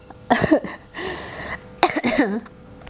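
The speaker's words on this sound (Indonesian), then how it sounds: "Sorry aku sambil batuk ya." A few close, hoarse coughs in two clusters, with a raspy breath between them, loud and near with no talk.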